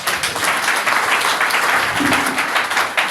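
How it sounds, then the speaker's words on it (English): Sustained applause from a crowd at a chaplaincy conference in a Mombasa beach hotel, dense steady clapping that fills the whole stretch without a break. "Once again, let's applaud the director."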